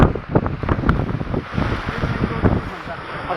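Outdoor wind rushes across the microphone in loud, uneven gusts with low rumbling buffets, and a voice can be heard briefly beneath it.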